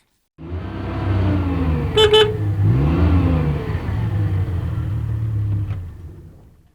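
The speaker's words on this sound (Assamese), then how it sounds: "বাহিৰৰ গাড়ীৰ হৰ্ণ শুনি" A car engine rumbles and revs nearby while a short horn honk sounds once, then the engine fades away.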